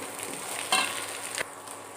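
Potatoes and pointed gourd hit a hot pan with kasuri methi and sizzle steadily at moderate level, with a brief sharper crackle partway through.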